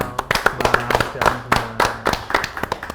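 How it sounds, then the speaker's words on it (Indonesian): An audience claps for young singers at an event, with quick, lively hand claps overlapping in a steady rhythm for about three seconds, loud and close. "Jadi kita tepuk tangan."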